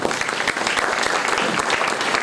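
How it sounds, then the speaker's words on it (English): Dense applause from an audience at an industry–academia link event welcoming the organizers, steady and fairly loud throughout with no talk over it. "It's a round of applause."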